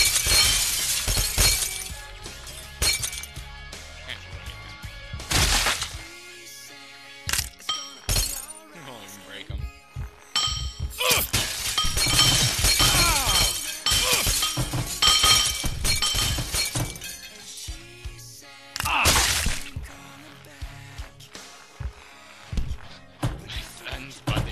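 Glass walls shatter repeatedly in Happy Wheels, loud crashing bursts of breaking glass and tinkling shards scattered throughout, mixed with thuds and game noise under frequent talking.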